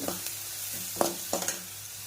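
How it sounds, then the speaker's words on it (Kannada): Four dried red chillies frying in hot oil in a pan, a steady close sizzle broken by a few sharp spatters and stirring clinks, fairly quiet overall with no talking. "ಒಂದು ನಾಲ್ಕು ಒಣಗಿದ ಮೆಣಸಿನ್ಕಾಯಿ ಹಾಕಿ ಫ್ರೈ ಮಾಡ್ಕೊಳ್ತಾ ಇದ್ದೀನಿ"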